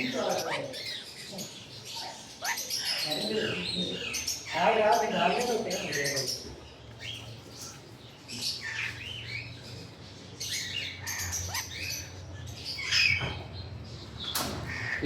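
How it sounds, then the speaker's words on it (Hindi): A black-headed conure parrot at a pet bird shop gives repeated sharp chirps and squawks mixed with other bird calls, while someone talks throughout. "साथ हमारे पास एक ब्लैक हेडेड कनोर भी पड़ा हुआ है"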